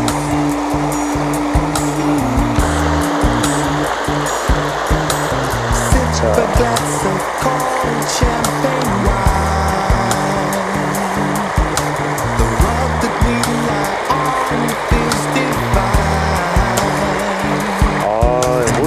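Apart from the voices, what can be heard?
waterfall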